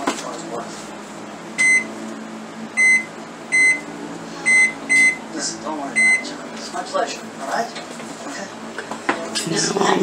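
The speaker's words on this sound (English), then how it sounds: "Set the timer." A kitchen microwave timer is set, chirping about six short, evenly spaced beeps over a busy background of kitchen clatter and talk.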